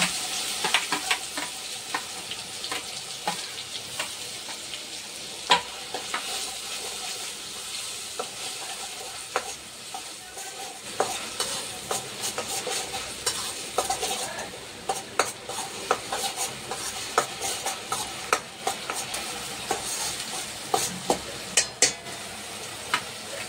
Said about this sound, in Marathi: जी कांदे आणि लसूणची पेस्ट बनवलेली ती टाकून घेऊया आणि व्यवस्थित फ्राय करून घेऊया